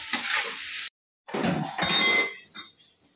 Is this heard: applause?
no